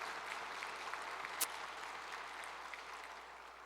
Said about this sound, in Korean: 찬양해 주신 우리 찬양팀에게도 우리 세션팀에게도 큰 격려 박수 한번 주시겠습니다